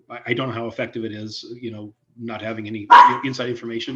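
Dog barking in a home office, a few sharp barks breaking in over someone speaking steadily in a meeting, close to the microphone.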